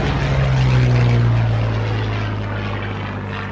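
A Vought Corsair warbird propeller plane roars past at an air show, loud and close, its engine tone sliding lower as it passes and then fading away.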